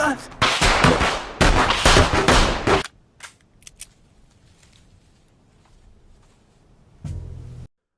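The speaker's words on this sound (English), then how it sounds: "He somehow has to fire off a few rounds." Frank in Fantastic Mr Fox fires several loud, rapid gunshot bursts close up in the first few seconds, then a few faint scattered reports fade into near silence before a final short low rumble.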